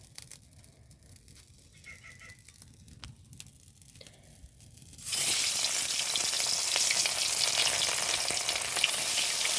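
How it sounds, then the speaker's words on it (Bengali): Bhetki fish fries in oil in a kadai over a leaf-fuelled fire. A quiet stretch with faint crackles gives way to a sudden, loud, sustained sizzle that continues steadily to the end. "দেখুন এবার মাছগুলোকে ভাজা করে নিব"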